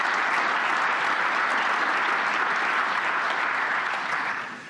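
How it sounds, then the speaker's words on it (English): A large audience at a security conference in Munich applauds, a dense, even wash of clapping that holds steady for several seconds before tapering off at the end. "I hope that's not the last bit of applause that I get"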